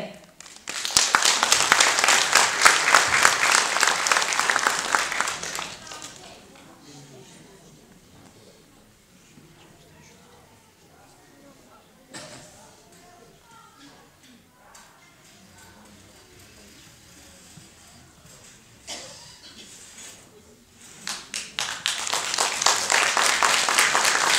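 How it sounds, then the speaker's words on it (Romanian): Audience applause at a kindergarten Christmas show welcoming the middle-group children: a loud, dense burst of clapping for about six seconds, a quiet stretch with faint room noise, then a second strong wave of clapping near the end. "Să-i întâmpinăm cu aplauze pe copiii grupei mijlocii B."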